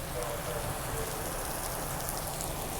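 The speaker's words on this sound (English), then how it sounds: "Raining pretty good out here." Heavy rain pours in a dense, unbroken hiss during a super typhoon in Tokyo, loud and close throughout, with no break in the downpour.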